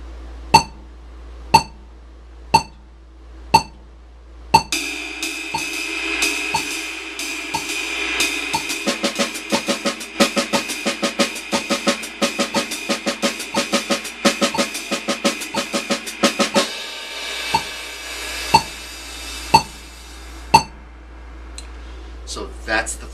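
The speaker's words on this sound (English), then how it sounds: "So that's the three-part ostinato with the alternate click." A drum kit plays a three-part ostinato coordination pattern against a metronome click placed on the offbeats, sharp evenly spaced clicks alone at first and last, with dense, loud, busy drumming filling the middle.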